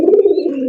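A black golla pigeon gives a single loud, close coo, a smooth sustained throaty note that wavers slightly and fades at the end.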